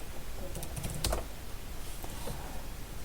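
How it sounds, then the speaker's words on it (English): Soft, sparse keystrokes on a computer keyboard while entering a sudo password in a terminal during an Ubuntu setup on a pcDuino3, a few quick taps clustered near the middle over faint room hiss. "Type your sudo password"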